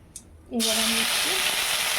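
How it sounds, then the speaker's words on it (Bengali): Ginger, onion and garlic paste drops into hot oil and bursts into a loud, steady sizzle that holds without letup, while a voice speaks briefly underneath. "আদা পেঁয়াজ রসুনের পেস্ট দিয়ে দিলাম।"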